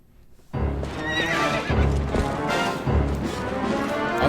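In The Legend of Zelda: Twilight Princess, a horse lets out a loud, close whinny over rhythmic galloping hoofbeats, with the clatter of hooves continuing at a steady pace throughout the battle scene.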